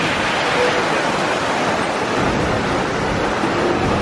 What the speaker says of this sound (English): Camera never does justice to how big some of these waves are that are following us in.